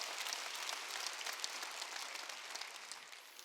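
A congregation claps during a Korean church's Wednesday worship service, a brief spell of steady, many-handed clapping that sounds somewhat distant and even in level.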